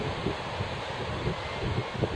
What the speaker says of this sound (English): the wind's blowing in a bit flat